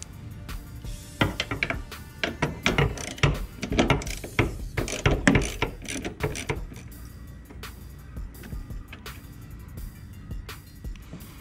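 Ratchet wrench clicking as it backs out the 10 mm bolts on a 1997-2004 C5 Corvette radiator cover, close and fairly loud, with quick bursts of ratcheting for the first half and then sparser, fainter clicks; no talking.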